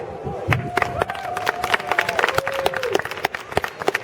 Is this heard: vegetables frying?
no